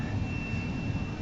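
Steady, close jet engine roar from inside an airliner cabin flying from the UK toward Athens, a continuous low broadband drone with a faint high whine, no talk.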